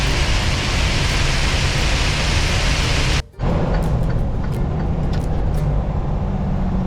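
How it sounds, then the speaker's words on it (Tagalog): Heavy rain roars steadily as a broad wash of noise, cut by a brief silent gap, then continuing slightly softer with scattered sharp taps. "Dahan tayo kasi malakas na masyado yung ulan."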